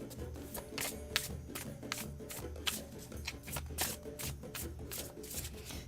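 A deck of music-themed oracle cards is riffle-shuffled by hand, giving close, quiet rapid riffling bursts with soft taps and clicks throughout.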